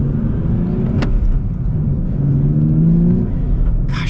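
A 2025 Nissan Z Performance with manual gearbox, its engine droning and revving steadily up close, rising slightly in pitch toward the end, with no talk over it.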